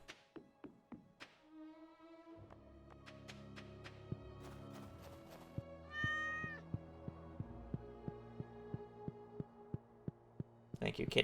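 Cat meowing in a game over layered synth music, a few short mews sounding amid plinking notes and periodic soft thunks.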